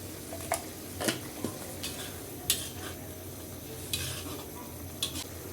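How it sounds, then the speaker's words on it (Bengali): A spoon stirs small fish curry with onion and cumin powder as it simmers in a pot, giving soft scraping strokes and bright clinks at intervals over a steady low sizzle, close by with no talk. "একটু নেড়ে চেড়ে দিব তাহলে চারিদিকে সমানভাবে সেদ্ধ হবে মাছ"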